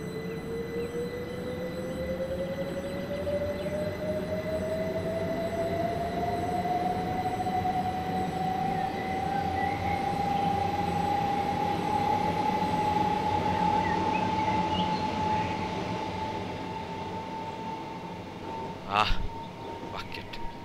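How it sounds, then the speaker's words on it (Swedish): An electric train pulls away in Train Simulator 2013 with the Armstrong Powerhouse sound pack, its motor whine climbing steadily in pitch over a constant rolling rumble, with a brief sharp clatter near the end. "Det här är Armstrong Powerhouse egna ljudpaket när jag startar det här"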